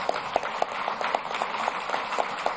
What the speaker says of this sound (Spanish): Vamos a darle un aplauso a nuestros camaradas.